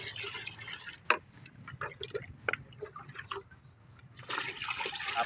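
Water poured into a container by the scoopful, about four litres in all: splashing and dripping bursts that come and go, with a fuller pour near the end, moderately close and fairly quiet.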